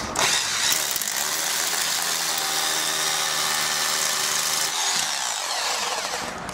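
A power drill bores a hole low on a kit garage door frame with a 10 mm bit, a loud, close, high-pitched whine with rattling grind, sustained for several seconds and slightly changing pitch partway.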